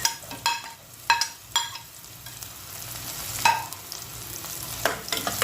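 Chopped garlic sautés in an oiled pan, a soft continuous sizzle punctuated by several crisp utensil clicks against the pan at irregular intervals, close and fairly loud.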